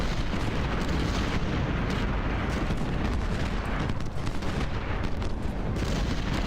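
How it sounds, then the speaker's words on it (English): Troops in Ultimate General firing volleys into a retreating enemy, a dense, continuous roar of massed musket and cannon fire with no pauses. "we're firing into them as they retreat"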